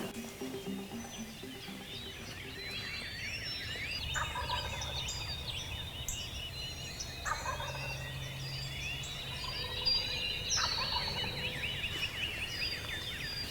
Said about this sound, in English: Sounds like I've got two birds,